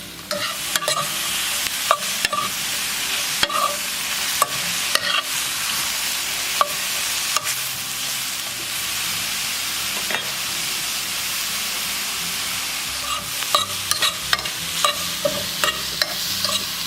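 Mushrooms, onions, ginger and masala are stirred in a sizzling pan, a steady frying hiss broken by frequent sharp scrapes and taps of the spoon against the pan, close and continuous.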